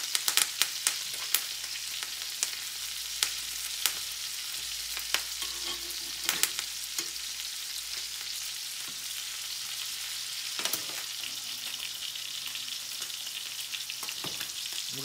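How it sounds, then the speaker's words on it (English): Filet mignon steaks fry in butter with thyme and rosemary, a continuous crackling sizzle with scattered sharp pops and spits and a few soft clinks of a spoon, no voices. "We're going to spoon some of this butter over the top."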